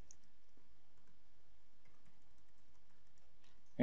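Someone types an admin account password on a computer keyboard: a faint, sparse run of soft key clicks in an otherwise quiet room, with no talking.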